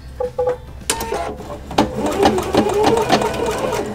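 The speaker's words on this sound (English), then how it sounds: "And then we'll begin sewing. I'm using a 1/4 inch presser foot and just cotton white thread." A sewing machine with a 1/4 inch presser foot and white cotton thread stitching quilt fabric for a pinwheel block, with a few short starts and then a steady, rapid mechanical chatter running up close.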